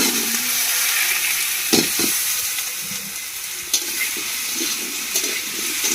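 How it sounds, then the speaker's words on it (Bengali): Chopped elephant foot yam hitting a hot pan of spiced masala with ginger paste, giving a steady close sizzle and frying hiss with a few brief clatters of stirring. "এবার কেটে রাখা ওলটা দিয়ে দিচ্ছি"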